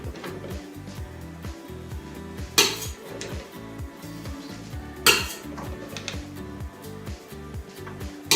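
A spatula scraped and tapped against a bowl while finishing the cream topping on a tres leches cake, a steady run of clinking, scraping strokes with two sharper knocks along the way.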